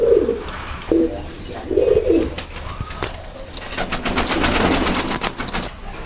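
Pigeons kept for sale coo in a few close, low rolling bursts, followed by rustling, fluttering and scattered chirps that grow busier toward the end.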